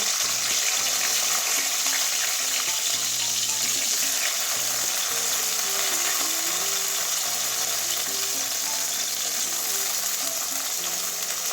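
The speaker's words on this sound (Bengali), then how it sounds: "এবার বেগুনটাও ওই তেলের মধ্যে একটু হালকা কাঁচা গন্ধ যাওয়া পর্যন্ত ভেজে নেবো" Brinjal frying in oil for a red amaranth curry with potato, a constant close sizzling hiss with a faint tonal hum running underneath.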